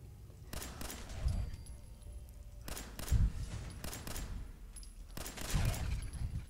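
Three separate heavy gunshots in Fallout 4, spaced a couple of seconds apart, each a loud crack with a rumbling tail over quiet ambient game noise.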